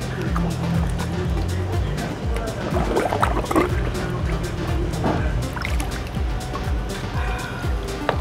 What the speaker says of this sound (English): this is already safe to be placed in the tank of our fry.